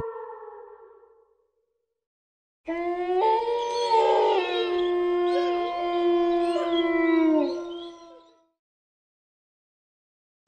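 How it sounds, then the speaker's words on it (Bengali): A big black dog in a horror cartoon lets out one long, wavering howl lasting several seconds, clear and alone after a short silence. "সামনে একটি বড় কালো কুকুর দেখতে সাধারণ কুকুরের থেকেও বড়"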